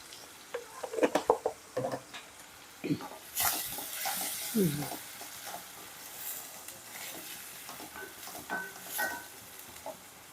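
Chopped onion with a little salt softening and frying in a pan for an eggplant and raw mango curry, with soft sizzling and scraping stir strokes, some clattering bursts early on, close and moderately loud.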